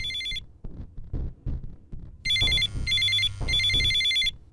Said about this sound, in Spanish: quizá quieras contestar el teléfono.